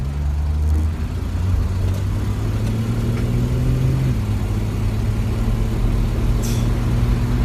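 A 1968 Ford Mustang with a 200ci inline six pulls through a turn under light throttle, its engine drone rising in pitch, dropping briefly at a shift, then climbing again, loud and steady from inside the car.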